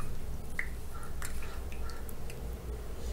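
Aloe vera gel being rinsed by hand in a bowl of water for a juice, heard as faint, sparse drips and soft squishy splashes in a quiet room.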